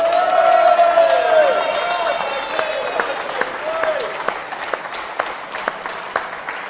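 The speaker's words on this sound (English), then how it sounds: "Can you give him a round of applause for Dave?" A game show studio audience applauds and cheers a contestant, with loud clapping and a few whoops at first, settling into steady applause.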